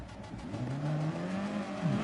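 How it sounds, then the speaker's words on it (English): Engine of a race car in a touring car racing video game revs at the launch, a brief rising drone that holds and climbs slightly, fairly faint and alone. "Here come the revs."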